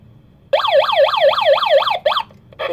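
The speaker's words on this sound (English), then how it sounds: "So the sensors detect intrusion and the alarm reacts." A home GSM alarm system siren wails after detecting an intrusion, a loud, close, rapidly rising and falling electronic tone that starts abruptly, repeats steadily, then stutters in short bursts with brief gaps.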